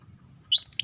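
Birds chirp in short bright bursts in the second half, close and fairly loud over a low background hum. They are sick caged birds being treated.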